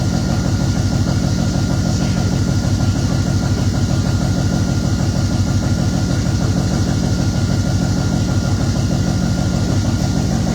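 A 1968 Pontiac engine with Holley Sniper fuel injection idles loud and close, a steady low rumble with rhythmic pulsing that holds unchanged throughout.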